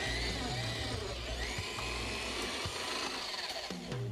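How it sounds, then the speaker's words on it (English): A power drill bores a hole into a rustic wooden birdhouse, giving a steady whining motor drone with grinding wood-cutting texture, fairly close, shifting slightly in pitch as the bit bites and eases. "next I'm going to drill another hole 2 inches above the hole here"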